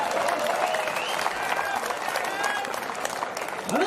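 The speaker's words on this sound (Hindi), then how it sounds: "यार तालियां बहुत कमजोर है आपकी" Audience applause at a Hindi comic poetry show, a steady, moderately dense clapping sustained throughout with some crowd noise mixed in.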